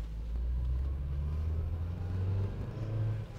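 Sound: 1991 Toyota pickup truck driving

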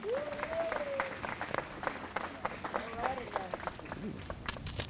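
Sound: applause

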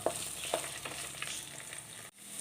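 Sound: okra frying in oil on low flame

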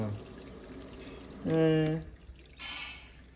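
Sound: cat turning on kitchen water tap, water running

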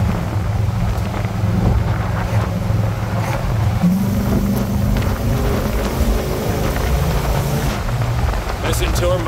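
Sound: 1964 Ford Galaxie 500 XL 428 big-block engine cruising

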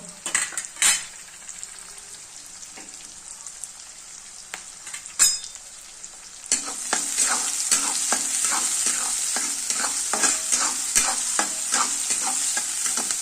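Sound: masala okra being stir-fried in a pan

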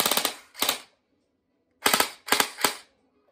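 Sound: M4 Golden Eagle airsoft gun firing semi and full auto

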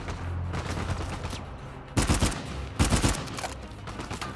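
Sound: gunfire in video game Uncharted 4

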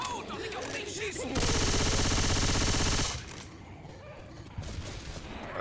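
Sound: gunfire in video game Left 4 Dead 2

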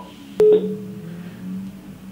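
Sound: telephone dialing a call

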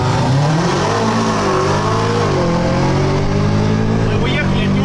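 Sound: BMW M5 F90 and Audi A3 accelerating from race start

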